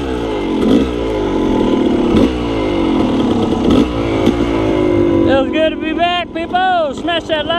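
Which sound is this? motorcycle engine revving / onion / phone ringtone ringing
motorcycle engine revving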